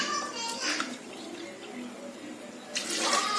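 Water streams from a cup into a pot of rice for vegetable biryani, in several short pours, each with a bright splashing rush and brief quieter gaps between.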